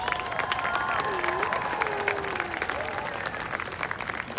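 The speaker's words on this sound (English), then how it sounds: "let's give them a round of applause" Applause at a school choice rally, a crowd clapping steadily with whoops and shouted voices rising over the clapping, fairly loud and continuous.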